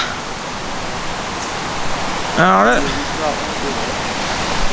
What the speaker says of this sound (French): il y a une cascade là-bas à mon avis